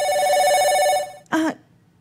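A cellphone rings with a steady electronic tone that stops abruptly, and a short voiced sound follows, close and clear in a quiet room.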